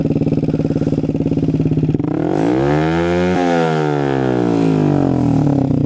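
A GPX Demon 125 carbureted motorcycle with a ProLiner full exhaust idles with a rapid loud pulsing, then revs up hard and falls back, rising again toward the end, close and very loud.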